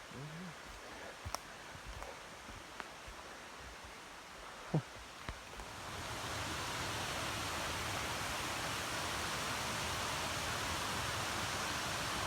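Small creek running down a hillside along a forest hiking trail, a steady soft rush of water that grows fuller midway, with faint scattered knocks and rustles early on.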